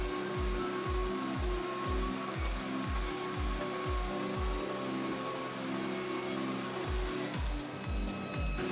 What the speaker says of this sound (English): Now that my router sled is set up, I'm going to go ahead and start making passes.